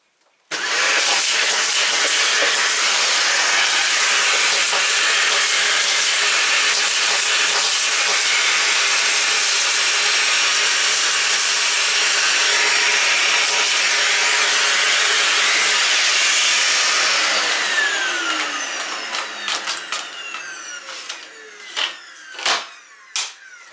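A Dyson DC55 Total Clean vacuum cleaner runs with its wand attachment, a loud, steady high-pitched whine and rush of suction close by that winds down near the end with a few bumps and clicks.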